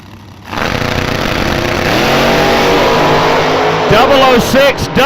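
A blower-powered big block Chrysler drag racing car with an Indy cylinder head roars loudly and steadily at the line, its engine climbing through several sharp revs near the end, with an announcer talking over it at a dragway.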